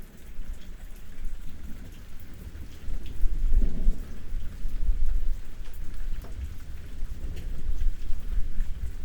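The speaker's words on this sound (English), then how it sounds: "We now take a moment to connect to the distant roll of thunder moving through the mountains." Low rumbling thunder rolls distantly through mountains under a steady wash of rain, the rumble swelling around the middle and lingering without voices.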